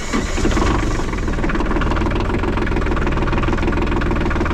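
A tractor engine warming up at idle, running close and loud with a steady low rumble and a faint knocking pulse, unbroken for the whole stretch with no talk over it.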